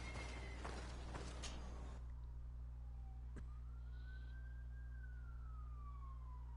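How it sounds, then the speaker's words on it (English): A siren wails faintly in the distance in the video game GreedFall, its pitch slowly rising and then falling, over a steady low hum and some brief noise at the start. "Oh, you can hear the sirens."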